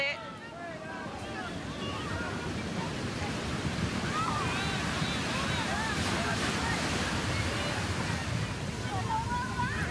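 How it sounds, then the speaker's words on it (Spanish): Ocean waves break and wash steadily onto the shore at Mar Chiquita beach, a continuous wide roar with wind buffeting the microphone and distant voices and cries scattered throughout. "El mar, si bien está tranquilo, aquí cuando rompe la ola se complica."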